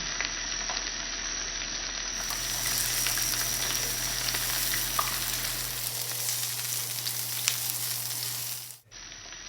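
Onions frying in olive oil in a pan, a steady close sizzle with scattered pops and faint stirring scrapes, running continuously before cutting off near the end; no talking.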